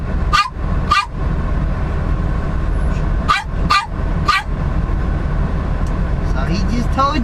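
Several short dog barks, one pair near the start and three more in the middle, heard close over a steady truck cab rumble and background chatter.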